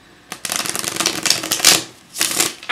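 A deck of tarot cards is riffled and shuffled by hand in two close, crisp bursts of rapid flicking, with a brief pause between them.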